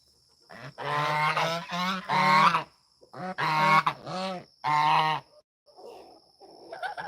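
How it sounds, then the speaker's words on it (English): Several geese honking in loud, close bursts of harsh repeated calls, with short pauses between groups and softer rustling toward the end. "Here comes the geese."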